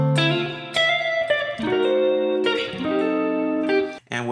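An RnB guitar lick run through effects, ringing chords and melodic single notes in a steady phrase with brief gaps, played alone and close with no voices.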